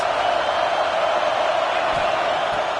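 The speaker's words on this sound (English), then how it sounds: "this crowd is getting behind this defense" A football stadium crowd roars on a third down in the red zone, a dense, sustained wall of cheering and noise from many fans at a constant loud level.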